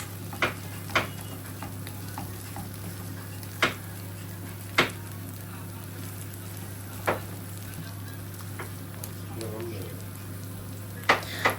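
Onions and spices fry in a pan while being stirred, a low steady sizzle broken by several sharp scrapes and knocks of the spoon spaced through the clip.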